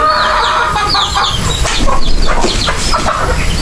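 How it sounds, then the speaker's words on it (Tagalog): A flock of chickens clucks and squawks busily at close range while being fed, many overlapping calls forming a loud, continuous chatter. "Pakain ko muna ako ng manok kasi usual kailangan ko itong pakain araw-araw."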